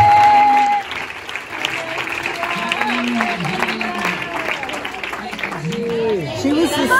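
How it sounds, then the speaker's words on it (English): Audience hand clapping at an evening church gathering, a dense burst of applause mixed with crowd chatter and scattered voices, fairly loud and close throughout. "let's give him one more hand clap."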